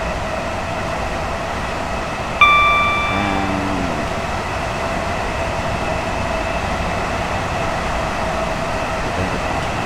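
An eight-coach Electrostar electric train runs on the South Eastern High Speed route in Train Sim World 5, a loud steady traction hum and rolling roar with a short two-tone chime early on, no voices.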